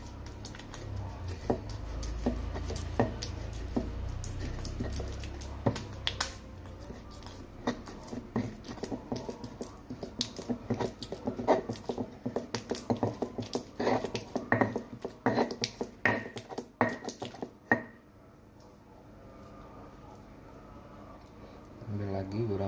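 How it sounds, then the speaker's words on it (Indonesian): Palm sugar (gula merah) being ground down for sambal rujak, a run of irregular scraping and pounding knocks in a kitchen, continuing for a while before trailing off near the end, with occasional talk over it. "kita lanjut untuk menghaluskan gula merahnya"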